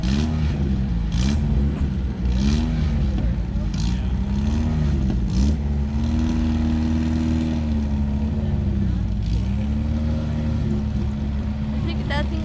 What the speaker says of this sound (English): There goes the Mini Cooper.